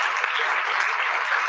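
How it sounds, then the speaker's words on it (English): A large conference audience claps in a dense, continuous roar of applause, steady and fairly loud throughout the short stretch. "one last time, a big round of applause for this incredible family."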